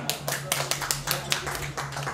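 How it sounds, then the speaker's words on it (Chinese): Rhythmic clapping from an audience welcoming a speaker at a Qinqiang opera ceremony, sharp even claps at a fairly quick pace over a low steady hum, with some talking in the background. "再次掌声欢迎"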